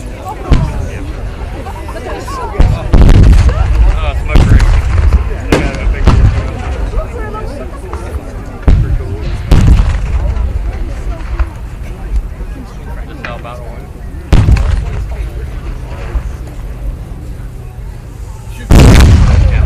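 Heavy cannon booms at a Gettysburg Civil War reenactment, several loud blasts spaced across the scene, each followed by rumbling echo, with a crowd murmuring and talking throughout.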